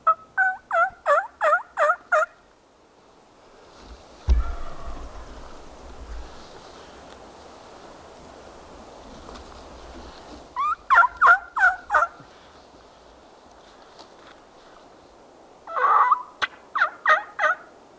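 A wild turkey gobbles in several bursts of rapid, rattling calls, some fairly clear and others more distant, separated by wind and outdoor hush.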